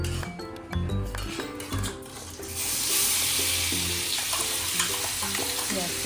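Garlic and green chilies roast and sizzle in a hot pan while being stirred. A steady loud frying hiss takes over after a short stretch of music and clinking utensils.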